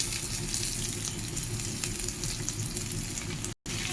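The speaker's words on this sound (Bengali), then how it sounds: "একটু ভালো মতো ভেজে তারপরে এখানে টমেটো দিয়ে দেব" Chopped ginger, garlic and onion frying in a pan, a continuous close sizzle with light crackles and a steady hiss, broken by a brief silent gap, no one speaking.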